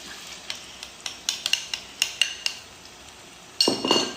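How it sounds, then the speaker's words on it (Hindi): A spoon scraping and tapping in a pan while yogurt is stirred into beef kofta curry masala, giving a steady series of close metallic clinks. A louder sizzling burst comes near the end. "दही को भी मिक्स करेंगे और चम्मच फेरते रहेंगे ताकि हमारा दही फटे ना"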